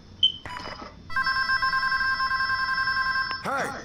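A telephone rings in the Scarface: The World Is Yours video game, a steady electronic trilling ring sustained for a couple of seconds after a short beep, fairly loud, followed by a voice at the end.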